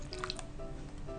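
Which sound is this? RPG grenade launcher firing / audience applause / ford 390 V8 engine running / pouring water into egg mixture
pouring water into egg mixture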